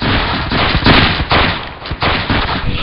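Loud musket volleys in the video game Battlegrounds 2, several heavy overlapping bursts of gunfire rolling one after another in close succession, with no talking.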